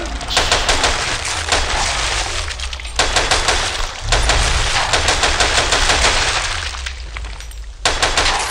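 Rapid rifle gunfire in Killing Floor 2 on the Spillway map, a dense, loud stream of automatic shots in bursts with brief pauses, all the way through, with clattering impacts mixed in.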